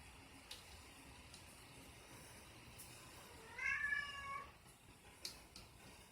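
A pet cat gives a short meow partway through, fairly faint against a quiet indoor background, with a few soft clicks and taps around it.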